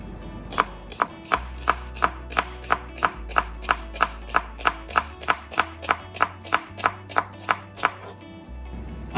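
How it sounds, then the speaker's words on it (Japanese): A knife slices two green onions into thin rounds on a cutting board, about twenty-five crisp, evenly spaced chops at a steady brisk rhythm, close and clear with no talking. "こちらのネギ2本、まずすべて小口切りにしていきます。"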